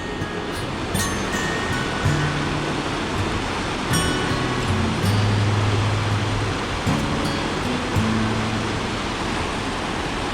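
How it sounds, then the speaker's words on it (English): West Fork of Black's Fork running high and heavy, a dense continuous roar of rushing water, fairly loud and close, with faint voices briefly under it. "West Fork of Black's Fork is definitely flowing heavy."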